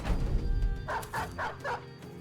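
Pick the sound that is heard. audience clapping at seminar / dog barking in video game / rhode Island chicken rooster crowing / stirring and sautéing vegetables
dog barking in video game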